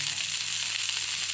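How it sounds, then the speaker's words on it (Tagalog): Onion sautéing in a pan, a steady close sizzle and hiss of frying that holds evenly throughout with no pauses. "Sibuyas, gisa muna ng sibuyas"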